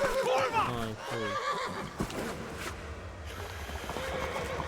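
Horse in the medieval game Kingdom Come: Deliverance gives a loud, close, quavering whinny at the start, followed by game noise and someone talking over it.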